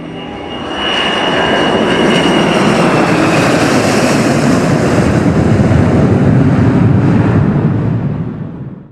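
A loud Tu-154 airliner engine roars steadily, swelling in and fading slightly at the end, close and continuous with no voices.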